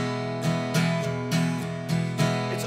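Acoustic guitar strummed in a folk groove pattern, with about six strong strokes accenting a steady rhythm over ringing chords, clear and close.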